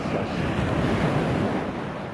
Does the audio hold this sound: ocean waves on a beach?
yes